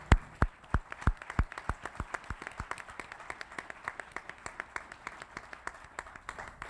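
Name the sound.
audience applause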